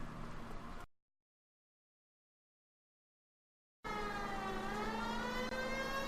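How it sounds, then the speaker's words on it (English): A video game car engine rumbles briefly, cuts to total silence, then a wailing police siren rises and sweeps loudly over engine noise. "We have a siren."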